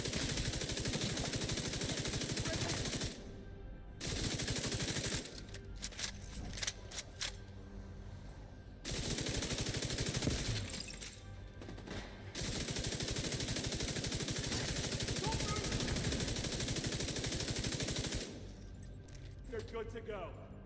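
Rapid automatic gunfire from The Division 2 video game comes in several loud sustained bursts separated by short pauses, with a few scattered single shots and clinks between them.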